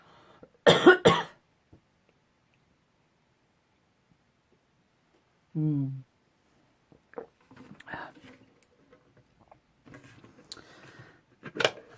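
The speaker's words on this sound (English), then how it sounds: "I feel a cough coming on" A single short cough up close, followed by a quiet pause, a brief throat sound, and then faint clicks and soft rustling.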